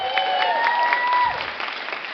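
An audience applauds at a storytelling comedy set, steady close clapping from a crowd for about two seconds while a brief tone sounds underneath.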